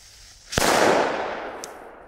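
A single loud firecracker explodes nearby, a sharp crack followed by a long rolling echo that fades slowly. It is Belgian knalvuurwerk, set off outdoors.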